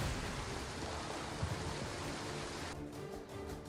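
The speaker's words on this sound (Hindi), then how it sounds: "गुजरात के राजकोट में भारी बारिश से नदी इस वक्त उफान पर है" Heavy rain and a swollen, flooding river in Rajkot, Gujarat, a dense steady roar of rushing water and downpour throughout, fairly faint and without speech.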